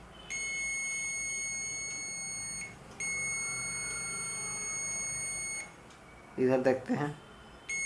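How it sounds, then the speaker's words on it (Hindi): A multimeter gives its continuity beep while testing a faulty coil in a dot-matrix printer head: two long, steady high-pitched tones in a row, followed by a short spoken remark. "ये देखिए बीप आ रहा है, इट मीन्स ये कॉइल जो है फॉल्टी है।"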